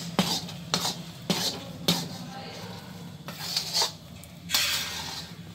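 A spoon stirs and scrapes a fresh coconut and milk mixture in a pan while it cooks down for burfi, giving a series of sharp metallic clinks and scrapes at irregular intervals, close by and fairly loud.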